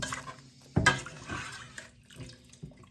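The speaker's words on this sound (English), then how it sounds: "I'm going to add a little more of this potato water." Starchy potato cooking water is poured into a pot of ham and potato soup in a home kitchen, giving a short close splash followed by softer trickles and small clinks of the pot.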